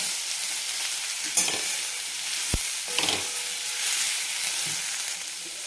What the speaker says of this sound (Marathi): आपण या बटाट्याच्या फोडी टाकून घेऊ आणि छान परतून घ्यायचं आहे आपल्याला